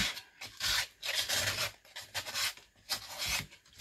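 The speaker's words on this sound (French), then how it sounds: "avec un papier à poncer qu'on aura soigneusement enroulé dans le garage de son mari, on va venir arranger un petit peu les bords" Rolled sandpaper rubbed back and forth over the edges of a small round box, quiet close-up rasping strokes in an irregular rhythm, about seven or eight passes with no speech.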